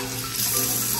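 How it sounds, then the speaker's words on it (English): Cold water splashed onto a face over a sink during a morning skincare routine, a brief steady wet rush with splashing, fairly close and with no talk. "So I like to splash my face with cold water."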